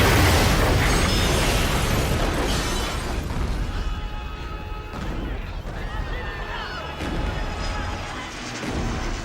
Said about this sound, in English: In the distance, we see the nuclear test facility exploding.